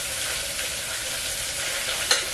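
Onion, mint and green chilli sauté together in a pan with a continuous close sizzle and brief stirring scrapes, with no talking.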